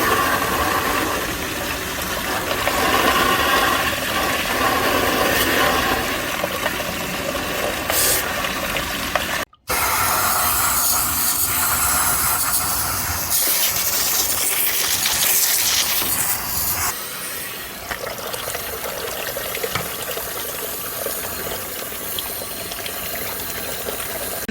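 Fuel and water pour from the drained tank of a 1976 Jaguar XJ6 Series 2, a steady close trickling gush that runs throughout with a brief dropout partway.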